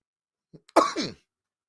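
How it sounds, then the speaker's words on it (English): A single short cough bursts out close up after a faint breath, then quiet follows. "I had a coughing fit there for a second"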